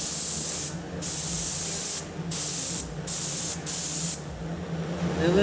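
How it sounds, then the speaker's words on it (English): Bursts of hissing spray from a spray gun applying DuraCoat liquid coating to a firearm come in short passes separated by brief pauses, close by, over a low background hum. "Okay, when we're spraying, nice, even"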